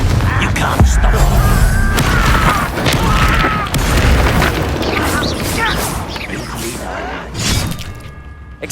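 A Confringo blasting spell in Hogwarts Legacy: loud booming explosions with crashing, shattering debris and mechanical clatter, repeated over several seconds under in-game voices and battle noise.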